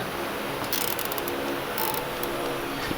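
A zip tie is ratcheted snug during a DIY lift kit install on a Chevy Express van, with short bursts of quick ratcheting clicks over steady background noise and no talking.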